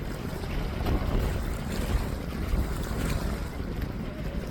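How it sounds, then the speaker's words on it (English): Water over Broadwater, Queensland, heard as a continuous rush of waves and lapping with strong wind buffeting the microphone, steady and fairly close throughout. "Nice sounds of the water."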